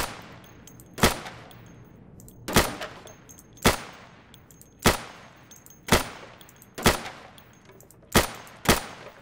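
Single gunshots ring out about every second in the tactical shooter game Insurgency, eight loud sharp cracks at a steady, slightly uneven pace, each trailing a short decaying echo with no talk over them.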